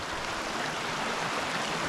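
White water rushing over rocks in a forest stream with mossy logs, a steady, dense, close hiss of flowing water with no break.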